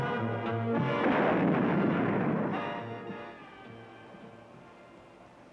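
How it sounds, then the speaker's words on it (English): A cartoon torpedo launching in an animated superhero series, heard as a loud sustained whooshing blast with a rumbling burst that slowly tapers off, accompanied by harmonic musical tones and no speech. "Ready, aim, fire! The torpedo heads for a Batfink bullseye."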